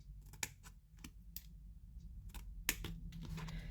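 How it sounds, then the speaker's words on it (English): Scissors snipping papercraft card along score lines, a string of crisp, close snips in an uneven rhythm, about a dozen cuts over a quiet room background with no talking. "cut up this score line here, cut the 3 outer squares off completely"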